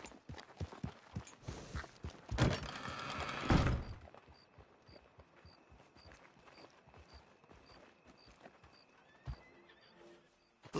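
Horse whinnies loudly early on, then its hooves clip-clop at a steady rhythm, with faint chimes in the background, in the video game Red Dead Redemption 2.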